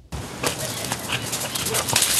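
Shelter dogs rescued after severe winter weather in Texas bark and whimper in a noisy kennel, with voices talking over the steady din throughout.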